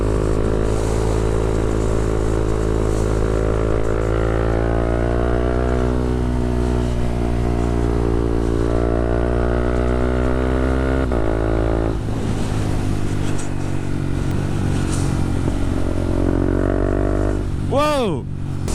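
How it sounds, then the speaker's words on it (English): Honda CB300F motorcycle with aftermarket exhaust and quickshifter while riding: steady engine drone rising through shifts, a brief drop near the end followed by a sharp rev, with a rider's voice likely mixed in. "And the exhaust sounds crazy good."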